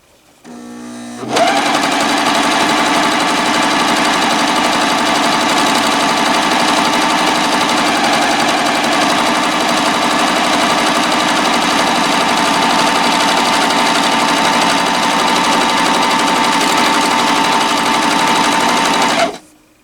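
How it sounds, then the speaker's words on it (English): A Janome 900 CVX overlock sewing machine runs steadily and loud for about eighteen seconds, a fast even mechanical whirr that starts abruptly after a brief quiet moment and cuts off at the end. "it's my first time ever running an overlock machine"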